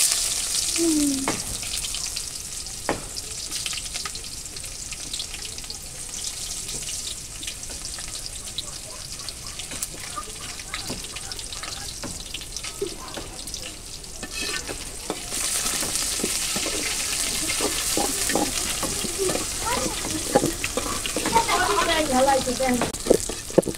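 Chopped onion and garlic frying in a pot for Bengali bhuna khichuri with cinnamon, cardamom and black pepper, a continuous close sizzle with repeated scraping stirs that grow busier toward the end.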